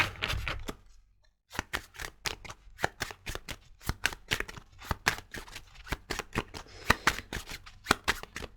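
A deck of tarot cards is shuffled by hand at close range, a quick run of crisp riffling slaps and flicks in an uneven rhythm, broken by a brief pause early on, with no talk.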